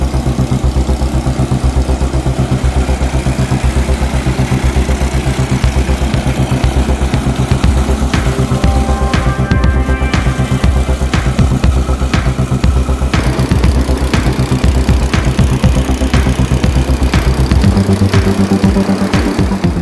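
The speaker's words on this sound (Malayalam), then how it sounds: "കുറഞ്ഞ ജലനിരപ്പിലും സഞ്ചരിക്കാവുന്ന എയർബോട്ട് നിർമ്മിച്ച് താരമായിരിക്കുകയാണ് എടപ്പാൾ സ്വദേശിയായ അഭിജിത്ത്" A homemade airboat built for shallow water and weed-covered surfaces runs its engine steadily and loudly nearby, a continuous mechanical drone with clattering overtones for the whole stretch and a slight change in pitch near the end.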